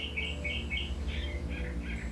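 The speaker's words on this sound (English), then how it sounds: "I have birds in my chimney, so this is coming from the fireplace." Birds nesting inside a chimney chirp repeatedly from the fireplace, a steady run of high twittering calls over a low indoor hum, with no talking.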